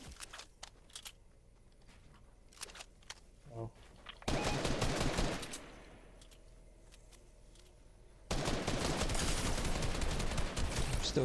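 Automatic gunfire in the video game Fortnite, two long loud rapid bursts separated by quieter scattered clicks and footsteps, with players talking now and then.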